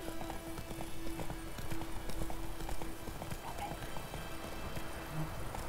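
A horse gallops in the Witcher 3 video game, its hoofbeats drumming in a steady, continuous rhythm throughout, with soft in-game ambience and music beneath.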